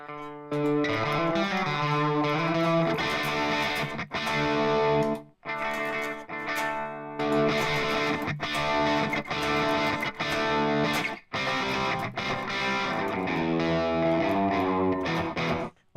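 An electric guitar played through an IK Multimedia TONEX pedal with gain switched on rings out as distorted chords and sustained notes, broken by brief pauses, loud and close with no talking.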